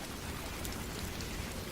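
Heavy pouring rain in a cartoon scene, a dense steady hiss and patter that fills the whole stretch without a break, loud and close, with no voices over it.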